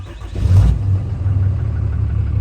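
A 6.7 Cummins diesel truck engine cranks and catches with a loud burst, then settles straight into a deep, steady idle rumble nearby.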